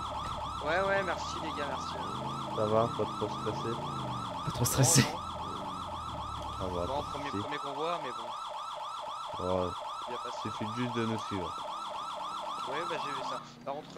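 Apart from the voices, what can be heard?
ambulance siren approaching in video game GTA 5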